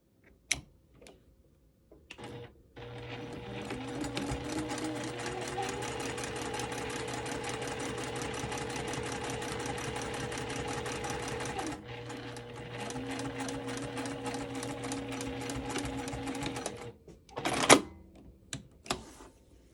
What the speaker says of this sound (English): we'll take it to the sewing machine, and we're going to back stitch here